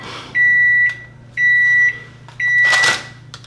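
A microwave oven sounds three long, clear electronic beeps in a steady sequence, each about half a second, over a low steady hum, followed by a brief clatter of its door.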